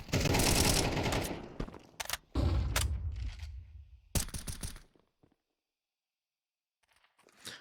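Bursts of gunfire ring out in a Counter-Strike match on the Nuke map during an ESL Challenger League game, with several loud volleys followed by quiet and a faint sound at the end.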